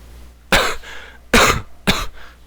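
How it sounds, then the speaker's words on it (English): Three sharp, close coughs come in separate bursts, each loud and abrupt, with brief quiet gaps between them. "oh, there's that cough again."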